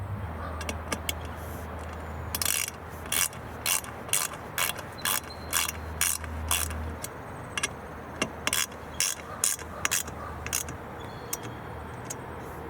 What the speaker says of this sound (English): you guys can use a small ratchet and a bit like this.